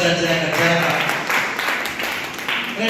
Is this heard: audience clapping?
yes